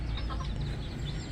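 Free-range village chickens cluck briefly in a noisy outdoor run, soft scattered calls sitting over a low, rumbling background.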